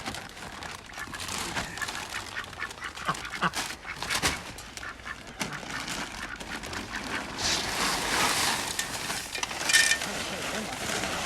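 Ducks quack in a backyard pen shared with chickens, their scattered, raspy calls mixing with clucking and clattering movement at close range over several seconds.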